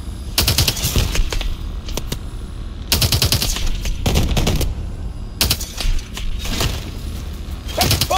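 Bursts of machine gun fire in the Bio Lab combat game, rapid rattling volleys in several clusters with short gaps between them, loud and close, with no talk over it.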